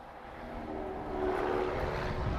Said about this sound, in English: PC-24's off to Geneva